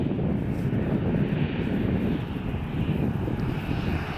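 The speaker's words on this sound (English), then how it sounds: "this United 737-800 is departing to San Francisco" United Boeing 737-800 airliner departing, a steady broadband jet engine roar that stays loud and constant throughout with no voices.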